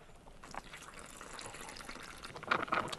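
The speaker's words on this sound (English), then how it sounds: "I'm just going to pour this directly into the bag." Ultracal 30 gypsum cement pours into a bag with a soft, faint rushing and splashing trickle, growing louder with a few wet gurgles near the end, and no talking.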